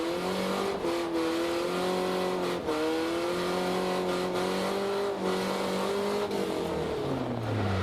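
A drift car fitted with a 4.6 ring and pinion revs hard on its first competition run, the engine note climbing and dropping repeatedly in close, loud, continuous bursts with no talking.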